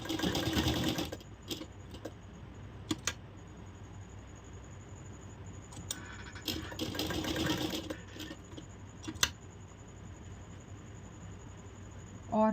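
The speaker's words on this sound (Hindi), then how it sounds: "इसको इस तरह रखते जाएंगे और सिलाई लगाते जाएंगे।" Sewing machine stitching blouse fabric, running in several short, loud bursts of rapid stitching separated by quieter pauses with light handling noises.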